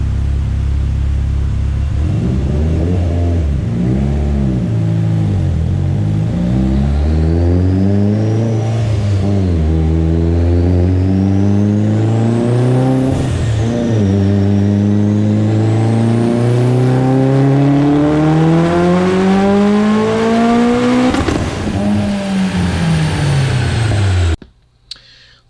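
A Mitsubishi Evo X with Wiseco pistons, Manley H-beam rods and a GTX3582 turbo on 25 psi of boost revs under load. The loud, continuous engine rises and falls in pitch several times before cutting off abruptly.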